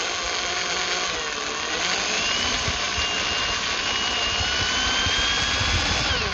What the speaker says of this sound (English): the secret to this is you gotta keep the drill bit straight